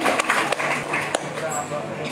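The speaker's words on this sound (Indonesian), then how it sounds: "Kita berikan tepuk tangan untuk acara malam hari ini" A crowd at an evening tourism and creative-economy gathering in Labuan Bajo claps in a short burst, with sharp individual claps mixed into the applause while a voice talks over it.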